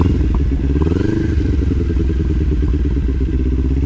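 A motorcycle engine held at a steady moderate rev around 3000 RPM, with a brief rise in pitch early on before settling into an even, loud idle-like drone.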